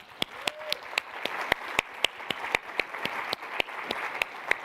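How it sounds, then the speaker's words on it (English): Applause at a climate summit, though it sounds like a few sparse, evenly spaced sharp claps rather than a full crowd, close and distinct over a soft background murmur. "Let's give them one more round of applause."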